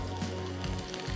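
Green chilies hitting hot butter in a pan, giving a soft, quiet sizzle with small crackling pops over about a second, with no voices.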